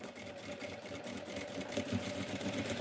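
A sewing machine runs briefly to put in a reinforcing stitch, a faint steady mechanical whirr with a light rhythmic knocking and no talk over it.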